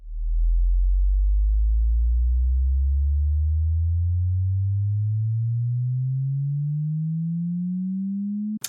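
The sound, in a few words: sine wave bass riser effect in music production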